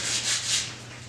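Sanding by hand makes a soft, rhythmic scraping of about three strokes, heard close and alone.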